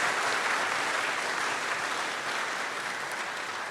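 Steady, dense applause from a campus audience clapping for GCB Bank PLC, loud and sustained with no break, no voices rising above it.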